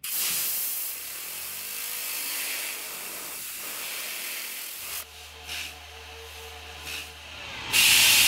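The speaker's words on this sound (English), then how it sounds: "just start the air compressor with your tool like this at the edge of the pad" Compressed air from an air compressor tool blows into the edge of a polishing pad and spins it, a loud rushing hiss that drops to a quieter whirring spin with short bursts, then surges loud again at the end.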